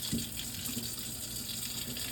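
A hot water tap runs in a steady, even stream during the cleaning of plants for a crested gecko enclosure. There is a brief knock at the start, and the water stays close and constant for the whole stretch.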